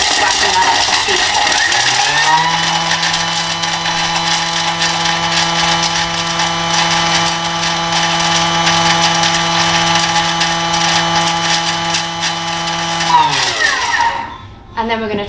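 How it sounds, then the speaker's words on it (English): A food processor blitzes a spice blend, spinning up to a loud, steady whirring drone that holds for about twelve seconds and then winds down to a stop. "we're going to blitz this up for 15 seconds"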